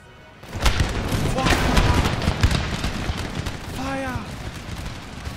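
A loud, dense musket volley rolls out across a battle in Empire: Total War, overlapping crackling gunshots and booms sustained for several seconds, with a brief voice over the gunfire near the end.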